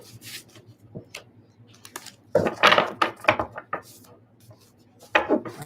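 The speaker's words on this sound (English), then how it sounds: "I'm just going to shuffle these again" Tarot cards being shuffled by hand, a series of quick riffling and tapping bursts with a louder cluster in the middle and another near the end, close and fairly quiet.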